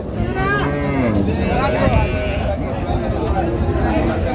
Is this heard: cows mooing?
yes